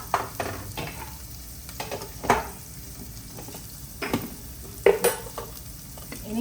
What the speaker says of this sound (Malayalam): ഇനി നന്നായിട്ട് ഇതിനെ വഴറ്റിയെടുക്കണം.